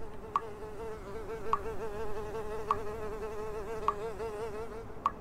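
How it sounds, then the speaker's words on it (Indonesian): A fly buzzes steadily and close by in a horror video game, a continuous droning whine with sharp clicks or ticks repeating at regular intervals of about a second, with no voices. "Ada suara lalat"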